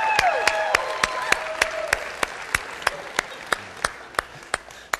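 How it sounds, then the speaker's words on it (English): A church congregation applauds in a brief burst of dense clapping that thins out into a few slow, sharp, evenly spaced claps, with a faint tonal sound underneath at the start. "Everybody, let's just clap."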